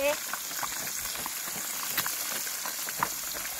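Piranha fries in oil at a riverside tent during a fishing trip, giving a soft, steady sizzle and crackle at low volume with occasional pops.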